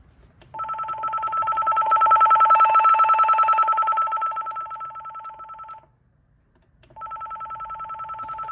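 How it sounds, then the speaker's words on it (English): A secondhand landline telephone from a thrift store rings with an electronic warbling tone that swells louder, breaks off, then starts again, close up with a faint hum underneath. "first I would love to see the ringtones. Let's see how loud it gets first."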